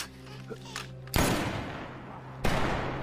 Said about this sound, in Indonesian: Tembakan itu memancing para zombie.